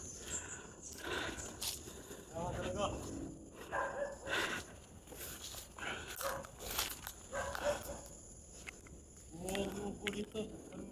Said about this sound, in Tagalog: Ayun, may aso.